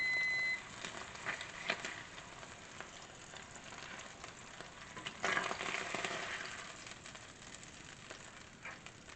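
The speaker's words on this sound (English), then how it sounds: "Sizzle, sizzle." Food sizzles and crackles steadily in a hot pan, a continuous hiss with small pops, fairly quiet and close.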